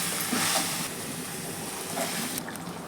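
Water poured into a pan of small onion chicken gravy gives a steady broadband hiss and splash, close and fairly loud, lasting a few seconds and ending abruptly.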